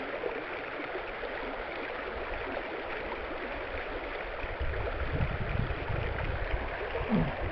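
Clear stream running over rocks, a continuous close rush of flowing water that swells slightly louder in the second half, with gurgling bursts and no talking.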